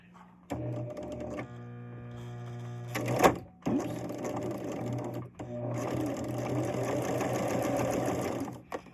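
A sewing machine runs a quarter-inch seam on a sawtooth quilt block, a steady close mechanical whir with a brief pause and clatter midway, then continuing evenly to the end.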